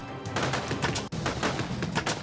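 Rapid bursts of suppressed gunfire from a silenced weapon in the survival game Judgment: Apocalypse Survival Simulation, dense overlapping shots rattling continuously with a brief pause midway.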